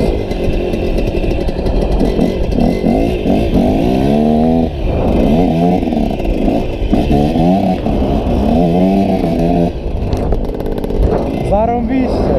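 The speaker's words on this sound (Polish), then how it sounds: "Jeszcze motor zimny, nie będę mu tak dawał." A KTM SX 125 motocross motorcycle being broken in with a cold engine buzzes loudly and steadily, with repeated rising and falling revs and a throttle blip near the end, while someone talks over it.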